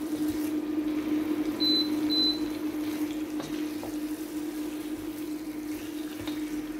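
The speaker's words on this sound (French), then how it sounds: "et vous faites rôtir tout ça pour que ça prenne les saveurs de nos" Spices and condiments roasting in a pan over raised heat, heard as a soft, steady sizzle with a faint constant hum behind it, and no talking.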